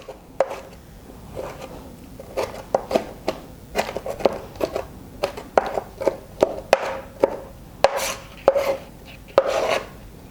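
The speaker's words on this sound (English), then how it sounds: "I'm also going to chop this up pretty small" Knife chopping a Roma tomato on a cutting board for guacamole, a steady series of crisp, close taps that come in irregular bursts with no voice.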